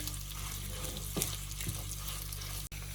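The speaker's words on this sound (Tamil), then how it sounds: "எல்லாத்தோடையும் சேர்ந்து இந்த மிளகாயும் நல்லா பொரியட்டும்." Chillies frying in a pan together with other ingredients while cooking in a home kitchen, a continuous close sizzle with a few faint clinks of stirring and no speech.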